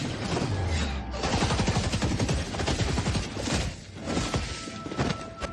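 Dense, rapid gunfire in an animated fight scene, loud and continuous with rattling bursts, cracks and a deep low rumble running underneath throughout, and no speech.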